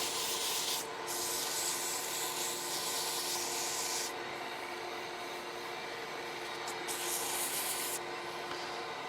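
Sandpaper rubs back and forth across a wooden pen blank on a lathe, a steady bright hiss broken by short pauses and shifts in texture, close and continuous without any speech.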